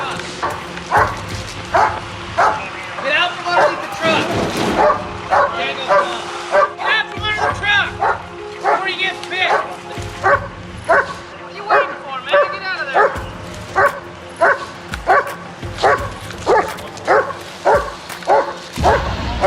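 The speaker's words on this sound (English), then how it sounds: "So right now they got the dog out and they're doing a dog track for the guy from the other car." A police K9 dog barks rapidly and repeatedly during a track of a suspect, loud and close, in a steady rhythm of sharp barks that continues throughout.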